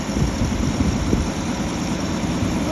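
A 1965 Ford Mustang that runs rough when hot idles steadily with a low, even rumble, close and fairly loud, with no talking.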